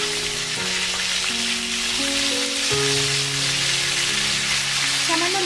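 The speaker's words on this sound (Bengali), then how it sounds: "ফুলকপির টুকরোগুলোকেও তেলের মধ্যে ভেজে নেব।" Cauliflower pieces fry in hot oil for a Bengali tangra fish curry, giving a steady, close sizzle that runs beneath soft background music.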